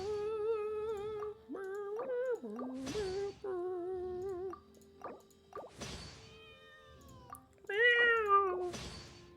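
A cat in Genshin Impact meows clearly and repeatedly, a series of close, distinct calls in an uneven rhythm with short quiet gaps and a few breathy bursts between them.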